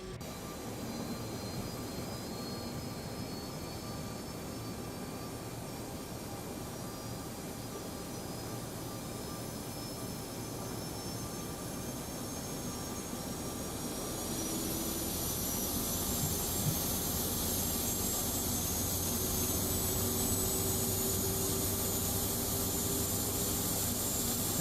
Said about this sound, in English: APU starting up.